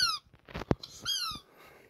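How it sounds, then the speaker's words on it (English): A squeaky dog toy squeezed repeatedly, with sharp high squeals in a few bursts close by and a soft thump in between. "if Mum's bought you any more squeaky toys for your birthday on Friday, Mum's gonna know about it"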